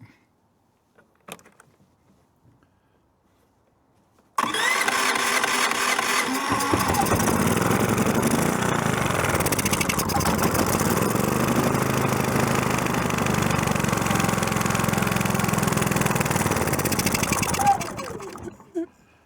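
A Predator 3500 generator with a freshly refitted carburetor is pull-started after a few quiet handling knocks, then catches and runs at a loud, steady idle close by for over ten seconds before cutting off.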